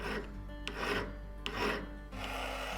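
Edges of a cut 20 gauge copper oval are smoothed with a file, giving rhythmic rasping strokes, three passes close and clear with short pauses between them.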